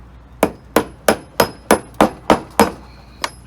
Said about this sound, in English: pull the wheel outward while you just lightly tap.